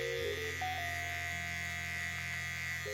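A Panasonic electric hair clipper trims a beard client's hair at the temple and over the ear in a barbershop, giving a steady, close, even motor buzz with a slight shift in pitch as the blade meets the hair.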